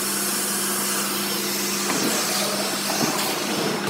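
A household vacuum cleaner runs continuously up close with a loud, steady whine, with a few brief rattles and bumps as it picks up debris.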